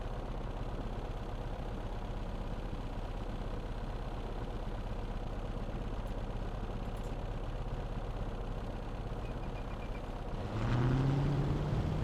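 A P-38L Lightning aircraft piston engine in a flight simulator turns over and settles into a steady, loud droning run, then surges louder with a rising roar near the end.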